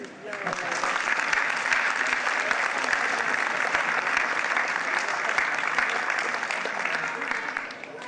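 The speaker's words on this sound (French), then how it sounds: "On peut les applaudir." A crowd at a town's New Year greetings ceremony applauds the elected officials, dense sustained clapping filling the room at a full, even level throughout, with a murmur of voices mixed in.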